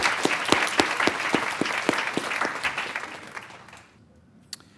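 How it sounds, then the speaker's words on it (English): A room of guests applauds the judges of a UX design competition at an evening celebration, with steady clapping and a few sharper individual claps that thin out and fade to near silence by the end, with one last clap. "Please give our judges a round of applause for joining us tonight"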